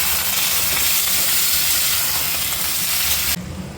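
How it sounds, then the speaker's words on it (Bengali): Ridge gourd fries in oil with dried red chillies and garlic, giving a loud, steady sizzle and hiss that drops abruptly in intensity near the end. "লঙ্কাগুলো ফ্রাই হয়ে এসছে, এখন এর মধ্যে আমরা দিয়ে দেবো ঝিঙেগুলো।"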